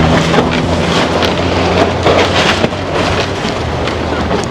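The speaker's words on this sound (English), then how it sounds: "Oh, the place is windy." Strong wind buffets a microphone outdoors, a steady broadband roar with rumbling gusts running loud and continuous throughout, with no voices.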